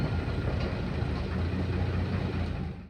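A motor launch pulls away from the jetty at Gosaba on a Sundarbans trip, its engine giving a steady, loud, continuous low rumble and churn that runs through the clip with no talk.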